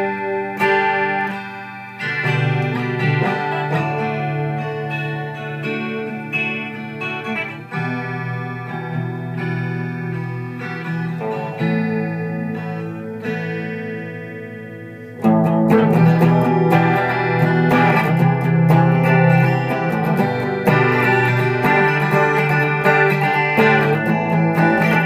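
Bass guitar played through a Boss chorus pedal, shimmering notes in a slow line that gets louder and fuller partway through.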